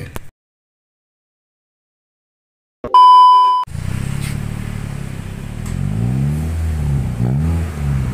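After a tone beep, a 2012 Honda City 1500 cc engine starts and revs through a CS Racing aftermarket muffler, rising and falling in pitch a few times with a throaty, loud note up close.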